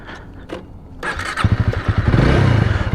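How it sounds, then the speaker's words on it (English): A Honda Rebel 300 motorcycle engine fires up and revs hard, a throaty single-cylinder thump that grows louder and rougher, close by with no talking. "Revving that one banger like it ain't nobody's business."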